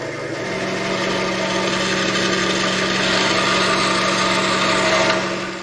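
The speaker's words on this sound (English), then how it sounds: "Over here at the bandsaw, I can free up my plugs." A steady, loud machine whine runs continuously with a constant low hum beneath, like a bandsaw cutting through wood.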